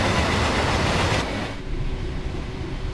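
A Freightliner Class 66 freight train, a diesel locomotive hauling wagons, rumbles past close by with a steady loud roar that drops somewhat after about a second, continuing as a lower rolling rumble.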